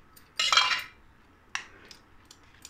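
A spoon scrapes soft, cooked raw-mango pulp through a metal strainer set over a non-stick pan, giving one loud, rough scraping burst, then a faint tap or two of metal against metal.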